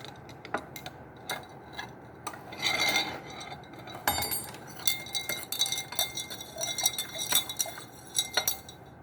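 Ice cubes lifted out of a glass during a lab weathering experiment make scattered light clinks and taps, some clustered and some isolated, fairly close, over a soft background hiss.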